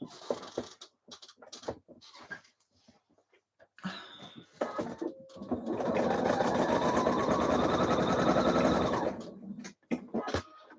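A sewing machine stitches a blouse cuff, starting with short stop-start bursts and then running in one loud, steady whir for several seconds before stopping, with a few clicks after.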